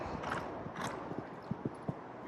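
Horse hooves clip-clopping in a steady canter rhythm during a show jumping lesson, several distinct thuds spaced across the stretch, moderately close over a soft background hiss.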